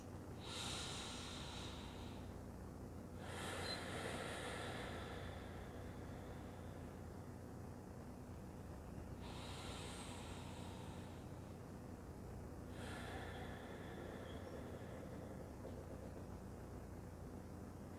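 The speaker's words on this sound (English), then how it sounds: "taking three rounds of breath through both nostrils" Slow yoga breaths drawn through both nostrils, four broad airy rushes spaced a few seconds apart, close and steady over a quiet background hum.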